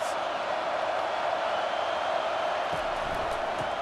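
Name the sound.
stadium crowd cheering in College Football 25 video game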